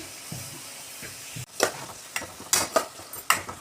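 A spoon scrapes and stirs through sizzling onions in a pan, a few sharp clacks against the metal over a soft, steady fry.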